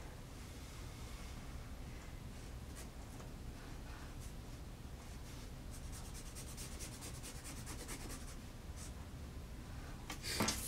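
Pen scratching across paper while drawing a penguin, soft continuous rubbing strokes close to the microphone, a faster run of short scratchy strokes near the end, under a steady broadband hiss.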